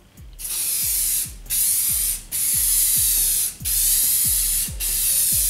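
Rust-Oleum crystal clear enamel from a rattle can sprays in five long, steady hissing bursts with brief gaps between them, each start marked by a small clicking rattle from the nozzle and can, loud and close.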